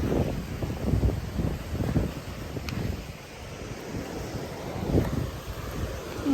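Sea waves wash onto a beach in Japan while wind buffets the microphone, a rough, steady roar with rolling surges of surf throughout.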